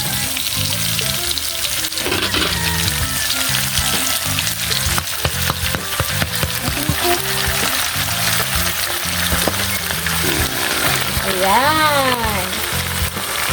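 Bottle gourd and sardines sizzle and fry steadily in a pan while being stirred, with scraping and clinking of the utensil throughout and a voice speaking briefly over the cooking.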